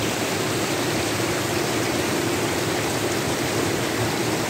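A river waterfall in Scotland roars as a dense, constant rush of falling water, heard up close from midstream and filling everything without a break.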